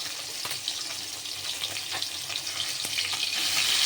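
Pieces of koi fish frying in a pan give a steady, loud hiss of oil that swells toward the end, with a few soft clicks and pops and no voices.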